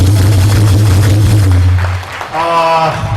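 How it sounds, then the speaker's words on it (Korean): Lukewarm clapping from the audience at a political meeting, thin and scattered beneath a loud low electrical hum, fading out before a voice comes in over the sound system. "박수가 여전히 미적지근합니다."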